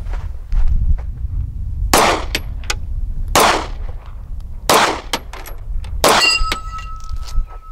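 Browning Hi Power pistol fires four sharp, close shots a second or so apart, each with a brief metallic ring, over low outdoor background noise.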